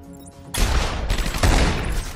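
Gunfire in the video game Batman Arkham Asylum, a sudden loud burst of rapid shots starting after a quiet moment and continuing with a second surge.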